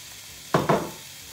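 Lamb rogan josh stirred in a hot pan, with two quick scraping stirs and a brief sizzle, close and moderately loud over a quiet background.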